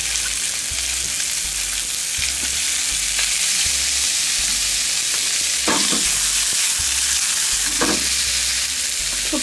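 Onions and sausages frying in a pan, a loud, continuous sizzle with a few stirring scrapes and clatters breaking through, with no talking.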